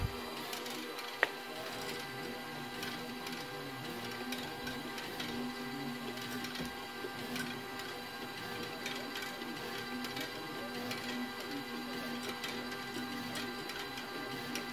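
A scratch-off label applicator for lottery tickets and cards runs steadily, giving a continuous mechanical whir with dense rapid ticking and clicking throughout and one sharp click near the start.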